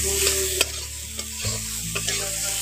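Boiled potatoes fry and get stirred in a pan for singara filling, a steady sizzle under repeated scraping strokes of a spoon against the pan, close and alone without talk.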